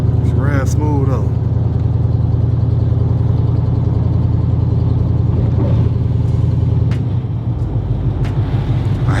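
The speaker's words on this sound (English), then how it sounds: "Man, them shocks sound terrible on this boy though." A Chevy El Camino drives along with worn, noisy shocks, its engine giving a loud, steady mid-pitched drone with rattling clatter, while someone talks over it and the tone shifts near the end.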